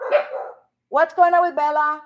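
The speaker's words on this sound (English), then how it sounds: "I'm sorry for my dogs" Dogs bark in a brief noisy burst indoors, then someone talks over the quiet that follows.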